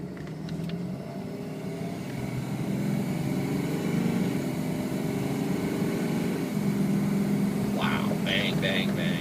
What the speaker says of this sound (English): I'm going to make a turn here where I'm able to give it some speed and show you it shift